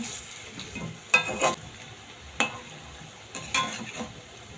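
Bhaja puli pithe frying in oil in a wok, with a soft steady sizzle and a few distinct clanks and scrapes as the pieces are flipped, fairly quiet and close, with no speech.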